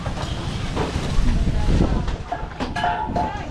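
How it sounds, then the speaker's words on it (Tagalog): Blustery wind roars against the microphone in heavy low rumbling gusts, with faint voices and higher whistling tones breaking through near the end. "Lakas ng hangin, no?"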